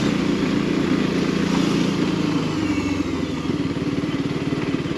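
A Mondial Piega 125cc motorcycle engine runs steadily on the move, its mid-pitched drone with a slight rasp rising briefly as the throttle winds on, then settling back.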